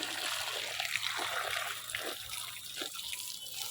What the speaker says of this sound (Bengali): এবার ভর্তি করে জল দিয়ে দিতে হবে